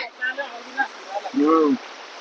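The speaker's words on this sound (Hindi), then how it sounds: "देख पारछन्ती केमती पानी अछि एवं याकू कहा जाय वाटरफॉल" A waterfall, swollen after rain, gives a steady, moderate hiss of falling water in the background while someone talks over it.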